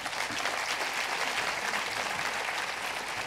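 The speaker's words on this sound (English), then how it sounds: "Big round of applause for our panel." At the close of a Dezeen Day 2019 panel discussion, the audience applauds the panel with a sustained, even wash of many hands clapping, moderately loud and steady throughout with no voices.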